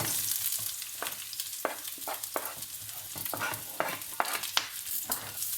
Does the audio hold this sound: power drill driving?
no